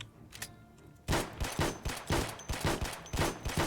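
Rapid gunfire in a shooter video game: after a quiet second, about ten sharp, loud shots crack out in a steady, fast rhythm, close and punchy.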